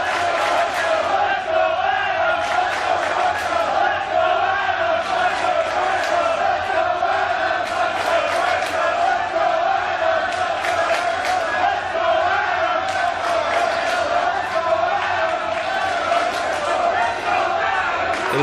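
Wrestling crowd at an indoor match roaring, cheering and chanting continuously, a dense sustained wall of voices with rhythmic chant bursts, loud and enveloping.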